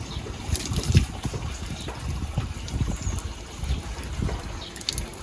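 Water is poured over a person taking a bath in a village, giving an uneven splashing gush that swells and eases close by.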